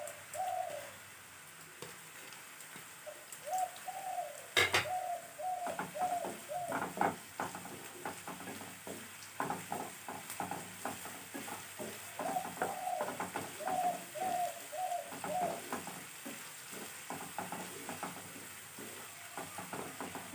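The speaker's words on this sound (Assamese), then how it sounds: "আদা নহৰু কেঁচা গোন্ধটো যোৱালৈকে মই ভাজি থাকিম" Ginger garlic paste frying in a pan for a jackfruit curry, a faint steady sizzle with occasional stirring scrapes and a sharp knock, with pigeons cooing in the background.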